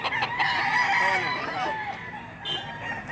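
A big stag rooster crows loudly and close at a poultry market in Lipa City, Batangas, one long drawn-out call over a busy background with clucking from other fowl.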